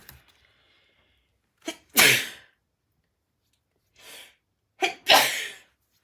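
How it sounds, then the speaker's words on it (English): Two close sneezes, each preceded by a short sharp inhale, separated by a quiet pause and a soft breath. "I'm going to sneeze."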